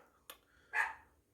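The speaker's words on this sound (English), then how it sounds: "barking" A dog named Mason barks indoors at a distance, giving a short yip and then one louder, fuller bark a moment later against a quiet room.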